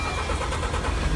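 Air hissing back out of an LNG refueling nozzle locked onto a Volvo truck at a fuel station, a steady broadband rush with a low rumbling undertone that runs unbroken and fairly loud throughout.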